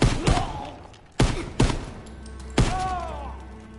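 Gunshots in the Call of Duty WWII campaign: four sharp, loud blasts spaced irregularly over a few seconds, each with a short ringing decay. Metallic tones linger after the last one, and no voices are present.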